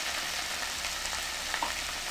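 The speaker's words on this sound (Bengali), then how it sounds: "আমি কিন্তু ফুলকপি আলুটা একদম অল্প তেলে ভাজছি" Cauliflower and potato fry with salt and turmeric in a little oil, giving a soft, continuous close sizzle with light stirring; no voices.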